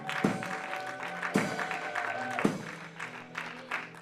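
A church congregation applauds and acclaims God during a Bible teaching, a soft, steady wash of clapping with a few sharper accents, under sustained music.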